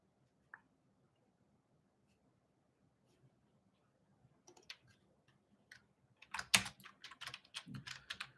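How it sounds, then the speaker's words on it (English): Keys clatter on a computer keyboard, starting with a few isolated soft taps and building into a quick burst of close, crisp keystrokes toward the end in an otherwise quiet room, no talking. "Let's say if I'm typing hash title of the page"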